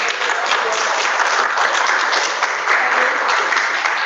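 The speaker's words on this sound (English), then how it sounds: "if you guys can give her a round of applause" Students in an online college-prep session applaud a speaker, a loud steady wash of many hands clapping together that stays even throughout, with no talk over it.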